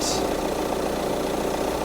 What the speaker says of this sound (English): It's a common rail engine, so it runs really nice.